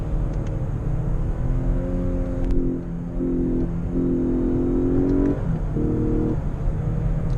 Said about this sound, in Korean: 배기음도 뭐 인위적인 것 같긴 하지만 엑셀레이터를 밟는 대로,